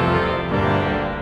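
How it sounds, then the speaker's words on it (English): Loud trumpet reeds of an Austin pipe organ at First Baptist, including the Trompette Royale 8 foot, Trompette en Chamade and 16 foot, play together as one full, blazing sustained chord that shifts slightly midway, with no voices. "All of these combined sound like this"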